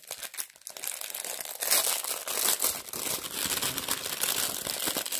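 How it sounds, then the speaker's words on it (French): Plastic packaging from a Temu parcel of embroidery-framing craft supplies being torn open and unwrapped, loud close crinkling and crackling that rises and continues busily throughout. "je vais vous déballer celui-ci par exemple"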